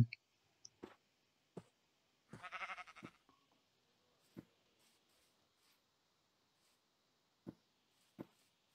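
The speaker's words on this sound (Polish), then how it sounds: "Mamy to! Owcę różową!" A pink sheep in a video game gives a brief bleat amid scattered sharp clicks, all faint and quiet with long silent gaps.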